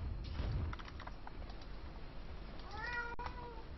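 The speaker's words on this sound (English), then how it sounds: "Sorry for the cat sounds." A house cat meows in sad, drawn-out calls near a microphone, two clear cries late in the clip over faint keyboard typing and soft background noise during a live esports broadcast.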